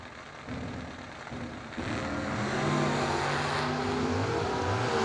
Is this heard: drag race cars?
yes